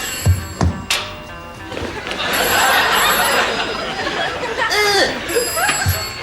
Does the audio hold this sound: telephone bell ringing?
yes